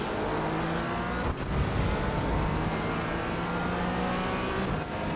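Racing cars on a track, engines whining and revving as they pass, a continuous busy roar with brief dips as individual cars go by, no talk.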